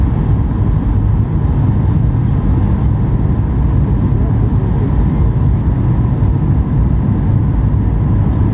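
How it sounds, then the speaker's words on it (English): Airliner landing at Bucharest, Romania at night: a loud, steady low roar of engines and rushing air, continuous throughout with no voices. "here's my airplane landing"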